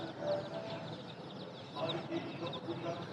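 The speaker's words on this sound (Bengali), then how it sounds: "এগুলা কোয়েল এগুলা অ্যাডাল্ট" Adult quail in cages at a pet shop: a dense, continuous mix of soft chirps and clucking, with faint market bustle behind it.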